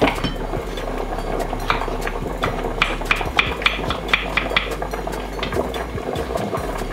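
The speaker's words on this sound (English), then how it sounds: "from there we're going to slice the mushrooms." Knife slicing mushrooms on a board in a home kitchen, a steady run of close, crisp cuts and taps over constant background hum, with no one speaking.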